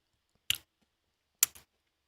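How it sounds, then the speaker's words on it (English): Two crisp, short crunches from biting into a crunchy pistachio-cream pastry, spaced about a second apart, close and fairly quiet with silence between them. "The pistachio cream or whatever it is inside is actually kind of crunchy."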